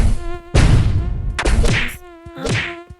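A mosquito whines in the Chicken Gun video game, a steady high buzz rising and swelling over three seconds, broken by a sharp thwack and ending in two louder buzzing bursts.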